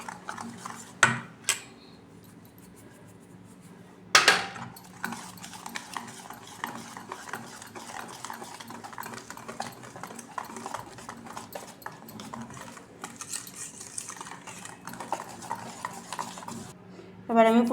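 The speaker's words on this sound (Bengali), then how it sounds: "সুজিটা অল্প অল্প করে দেব আর মেশাবো" Semolina stirred bit by bit into mango cake batter in a bowl, with a steady scraping, tapping stir throughout, a couple of sharper knocks against the bowl, and no talk.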